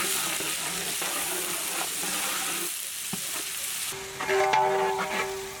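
Chopped onions and raw whole spices fry in hot oil in a pan, a steady close sizzle with occasional stirring scrapes, the hiss shifting and settling partway through as more goes in.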